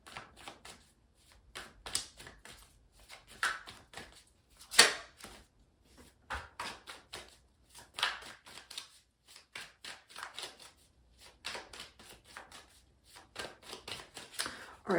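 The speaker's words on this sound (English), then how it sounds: "I'm going to keep shuffling though, because I need more information." Tarot cards are shuffled by hand in repeated bursts: quick, crisp riffles and flicks in irregular clusters with short pauses between, close and fairly quiet.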